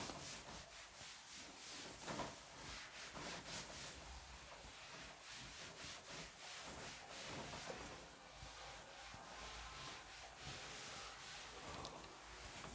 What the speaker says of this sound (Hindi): इसको एक बार रब कर देता हूँ और इसको फिर से बताता हूँ।